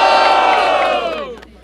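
A crowd at a rap battle in Barueri cheers loudly for a rapper, a dense mass of shouting and whooping voices that holds strong and then fades away over the final half second.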